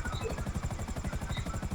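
A helicopter in Grand Theft Auto V gives a steady, fast rotor thump with a rhythmic chopping pulse, heard as a faint, brief game sound.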